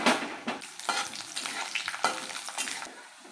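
Cashew pieces and ground spices hitting hot oil for sundari aloo dum, a steady crackling sizzle with bursts of stirring scrapes, close and fairly loud, no voices.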